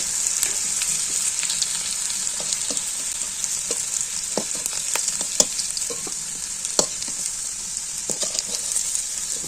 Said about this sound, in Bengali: আলুটা লাল লাল করে ভেজে নিয়েছি আমি তুলে নেব